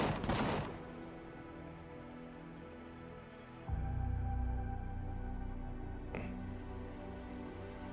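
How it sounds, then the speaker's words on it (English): Spaceship turrets on a Creole ship and a Zirax ship trade fire in a video game: a dense burst of rapid gunfire at the start, then a deep rumbling hum and a later sharp single blast. "Creole ship and the Zirax ship are opening fire on each other"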